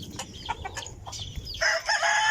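Backyard chickens cluck in short, repeated bursts close by, with a rooster's crow rising near the end over a low farmyard background.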